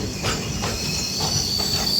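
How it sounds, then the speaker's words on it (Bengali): A Humsafar Express train rumbles slowly and close into Asansol Junction, with rhythmic wheel clatter and a faint high squeal. "প্রায় 1740 কিলোমিটার অতিক্রম করে আমাদের ট্রেন এখন ঢুকছে আসানসোল জংশনের দিকে"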